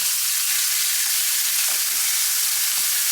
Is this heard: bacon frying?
yes